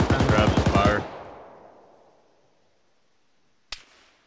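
Gunfire in the video game Arma 3, a rapid automatic burst of about eight loud, close shots with a long echoing tail, followed a few seconds later by a single sharp shot.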